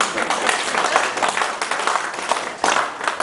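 A convention audience of sports journalists claps in a dense, steady round of applause lasting a few seconds, with a slight swell near the end.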